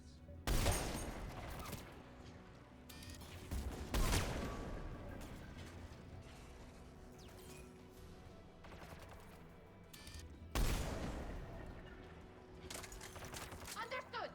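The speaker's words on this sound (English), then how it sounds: "AA guns ahead of us" Anti-aircraft guns fire in Mass Effect 3: heavy booming bursts at about 0.5, 4 and 10.5 seconds, with rumbling between them and voices talking over the barrage.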